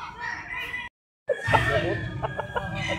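Roosters and hens at a gamefowl farm in Tanauan, Batangas, crowing and clucking close by amid a crowd, broken by a brief silent gap, with repeated short calls afterward.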